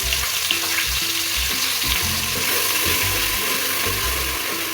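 Chopped onions and garlic sautéing in hot oil with cumin and asafoetida for mung bean pulao, sizzling steadily, with repeated low knocking and scraping of a spoon against the pan throughout; no speech.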